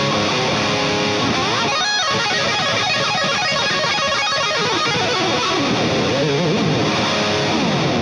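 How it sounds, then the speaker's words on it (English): Electric guitar played through a vintage-style Rocktron overdrive pedal, a loud, continuous crunchy distorted tone with sustained chords and short gaps between them, alone and close. "And now let's hear it with the overdrive on."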